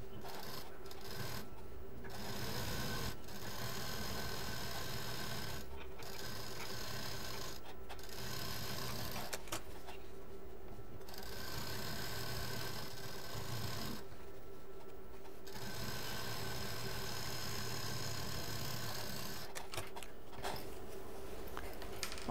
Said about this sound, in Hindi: अब इसको यहाँ से सिल देंगे